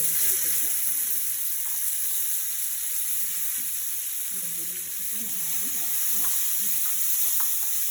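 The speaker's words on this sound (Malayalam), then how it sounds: "കശുവണ്ടി നന്നായി വറുത്തെടുക്കണം" Cashews roast in a pan while rava ladoo is being made, giving a steady, fairly faint sizzling hiss throughout. Soft stirring sounds rise now and then beneath it.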